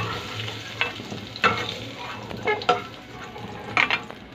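Potatoes frying in a pan for a Filipino chicken caldereta, a steady soft sizzle broken by several sharp stirring scrapes and clinks at close range, with no talking.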